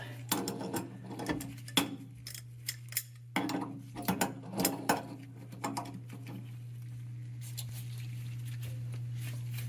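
Metal clicks and ratcheting taps from a wrench tightening a fitting on a water heater's T&P valve, arriving as scattered, irregular bursts over a steady low hum.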